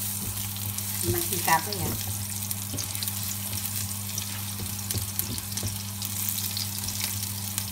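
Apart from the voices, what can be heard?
garlic sautéing in oil after frying fish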